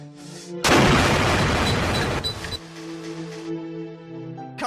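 A loud gunshot blast bursts out in a vampire horror film shootout, followed by a long, rough, decaying roar before dropping away into a quieter, tonal background.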